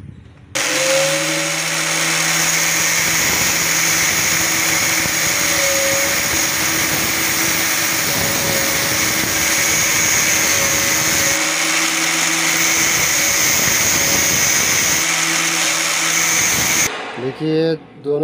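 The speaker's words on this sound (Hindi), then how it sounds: "हम इसका दो से तीन चूड़ी घिस लिए ग्राइंडिंग का मदद से" An angle grinder grinds down the threads of an Allen bolt, producing a loud, steady, high-pitched whine that runs almost unbroken for about sixteen seconds before winding down and stopping.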